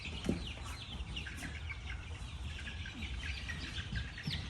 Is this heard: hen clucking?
yes